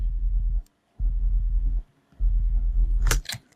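A deep sub-bass synth built from a massive sine wave with a touch of smooth square wave, playing three sustained low notes separated by short gaps, followed by a couple of brief clicks.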